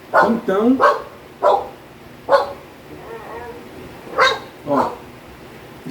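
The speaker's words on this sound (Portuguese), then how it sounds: "isso é o cão atrapalhando a minha mensagem" A dog barks repeatedly in sharp bursts close by, with a few yips and whimpers in between, while someone speaks Portuguese over it.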